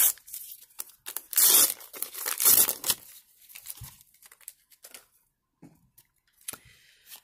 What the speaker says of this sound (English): Let's rip them.